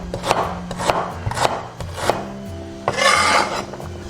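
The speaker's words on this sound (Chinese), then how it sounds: "把洗好的老姜切小块，" Washed old ginger, skin on, being chopped into small pieces with a knife on a board, about eight crisp close cuts at a fairly steady pace, then a scraping sweep near the end, with no talking.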